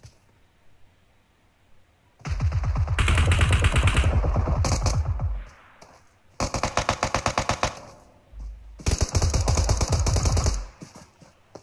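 Automatic gunfire in PUBG Mobile, three long rapid bursts of shots separated by short pauses, loud and close, with brief quiet before the first burst.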